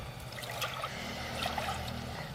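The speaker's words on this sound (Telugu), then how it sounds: "మినుముల పాశం వండుకోవడానికి మూడు కప్పుల నీళ్ళు పోసుకుందాం" Water poured from a cup into a cooking pot to make black gram porridge, a steady close trickle and splash running throughout with no talking.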